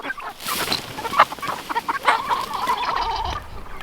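A backyard flock of chickens clucks in a busy, overlapping chorus close by, with short sharp calls and a drawn-out squawk toward the end.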